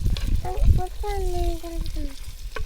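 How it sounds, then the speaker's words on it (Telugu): Thinly sliced onions frying in oil in a pan for fish head curry, giving a close, busy sizzle with stirring clatter, while thin whistling tones and occasional voice sounds come through over it. "సన్నగా తొరుకున్న ఉల్లిపాయలు అయితే వేసుకోవాలి వీటిని లైట్ గోల్డెన్ కలర్ వచ్చేదాకైతే వేగించాలి"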